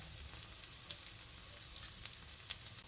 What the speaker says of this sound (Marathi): ते पलटी केल्यानंतर पुन्हा तूप सोडून पुन्हा आपण वाफवून घेणार किंवा शिजवून घेणार